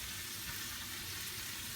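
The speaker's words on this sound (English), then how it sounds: "Nice little sear." Pork loin searing in olive oil in a pan, giving a constant soft hiss and sizzle that holds steady and fairly quiet from start to finish, with no voices.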